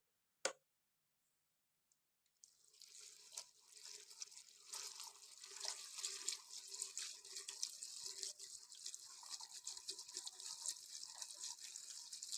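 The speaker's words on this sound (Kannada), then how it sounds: "ಪೆಟ್ರೋಲ್ ಹಾಕ್ತಾಯಿದ್ದೀನಿ." Petrol pours into the fuel tank of a 7 HP power tiller engine, a steady trickling, splashing stream starting after a sharp click and brief quiet, close and fairly soft.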